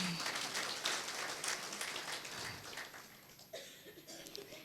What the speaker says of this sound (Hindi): तो अपने लिए ताली बजा लीजिए